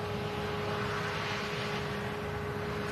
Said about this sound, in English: This is the Emirates Airbus A380.